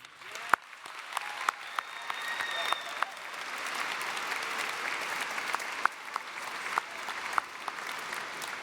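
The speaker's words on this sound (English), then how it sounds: "Audience, please join me and the class of 2026 in giving these incredible educators the recognition and round of applause they so richly deserve." Sustained audience applause fills a high school graduation ceremony, steady crowd clapping with a few sharper claps standing out, heard from within the venue at moderate level without talk.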